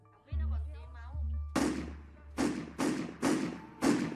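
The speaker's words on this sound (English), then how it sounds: "And then 5 gunshots ring out." Five loud gunshots ring out in quick succession after a low rumbling thud and some muffled talk.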